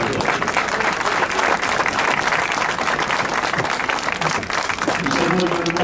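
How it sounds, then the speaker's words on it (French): An audience at a boat blessing ceremony applauds the Class 40 sailor Fabien Delay, loud continuous clapping from a crowd, close and sustained, with voices mixed in beneath. "C'est Fabien Delay, je vous demande d'applaudir."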